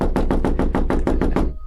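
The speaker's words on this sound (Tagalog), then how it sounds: "May kumatok mula sa loob." Rapid knocking on a door from the inside, about ten loud, evenly spaced raps in quick succession, close and solid, fading at the very end.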